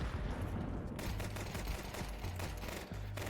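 Pistol gunfire from a Counter-Strike 2 pistol-round rush, a busy stream of close shots crackling over steady game noise with no gaps.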